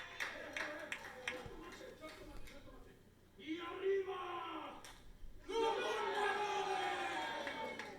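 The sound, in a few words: wrestling crowd chanting and cheering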